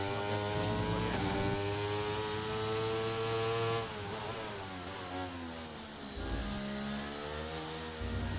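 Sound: F1 23 video game race car engine revving

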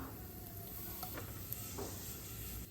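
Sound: mustard seeds and cumin sizzling in hot oil

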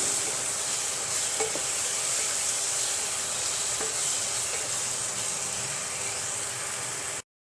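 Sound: stirring and cooking masala spices in a pan

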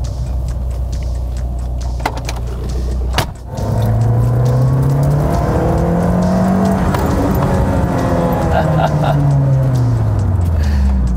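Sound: sports car engine revving to 4000 rpm

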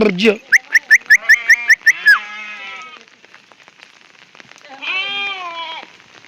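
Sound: sheep bleating

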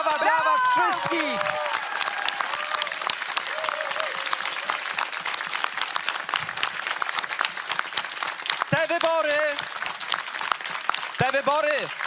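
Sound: crowd applause at an election night event

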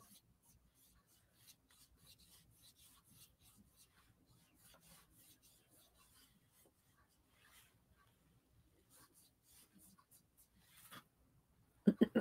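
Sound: pencil adding details to a rooster painting

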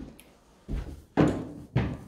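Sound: building door opening or closing

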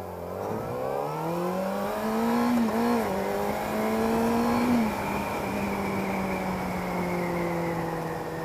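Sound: motorcycle accelerating after first service

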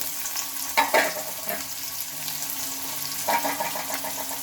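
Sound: chopped onion frying in oil with cumin

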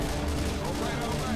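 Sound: big gun firing in video game Left 4 Dead 2

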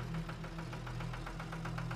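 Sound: tractor engine starting to pull hayride

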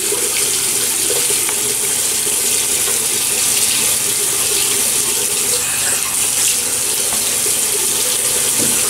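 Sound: running tap water to wet the face before shaving

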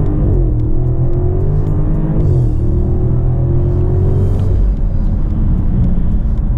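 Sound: 2018 Alpina B7 car accelerating

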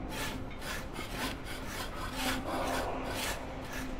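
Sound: sawing with a saw in video game A Way Out

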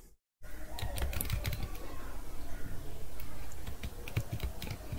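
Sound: typing a password on a keyboard

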